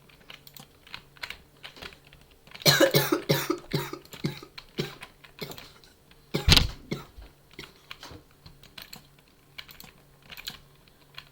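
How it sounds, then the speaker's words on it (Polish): A couple of harsh coughs, one short fit and a single later cough, break through steady keyboard typing close by. "Jaki kaszel."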